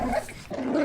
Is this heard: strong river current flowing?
no